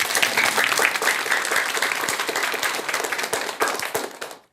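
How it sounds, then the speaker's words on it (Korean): A lecture audience gives sustained, dense applause at full volume for several seconds, then it cuts off abruptly. "뜨거운 박수 한번 주시기 바랍니다."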